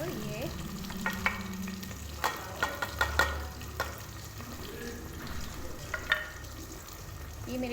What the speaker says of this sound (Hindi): प्याज जो है हमारा फ्राई हो रहा है